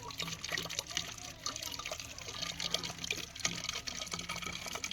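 Water runs steadily into a bottle, a faint, continuous trickling and gurgling with a voice speaking softly in the background.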